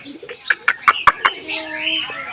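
Lovebirds and other birds at a bird farm call in a run of sharp, bright chirps close by, followed by softer sustained tonal calls, over light background chatter.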